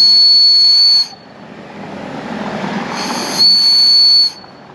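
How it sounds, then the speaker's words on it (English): Handmade bird-shaped craft whistles blown twice, each a steady, loud, pure shrill tone lasting about a second, separated by a stretch of low background hubbub with no talking. "And I think these birds whistle."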